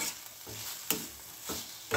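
Marinated chicken frying in a pan, a soft close sizzle punctuated by a few sharp scraping strokes of a spatula, quiet overall and without speech.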